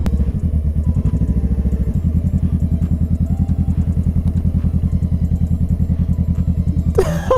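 A motorcycle rides slowly around a parking lot, its engine a loud, close, evenly pulsing thump throughout, with a brief noisy rustle near the end.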